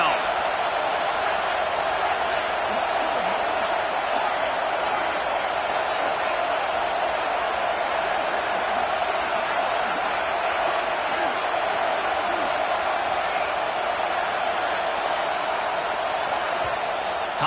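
Steady, loud stadium crowd roar at a college football game, a dense continuous wash of noise swelling on a third down with no breaks from start to finish.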